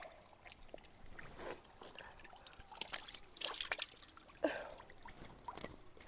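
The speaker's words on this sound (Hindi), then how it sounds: "घर के आगे से गूल में ना पानी भी आ रखा है, तो मैं अभी यहाँ पे बैठ गई हूँ मुँह हाथ धोने के लिए" Water flows in an open channel in front of a mountain home while someone splashes it over face and hands, quiet trickling broken by irregular pours and splashes.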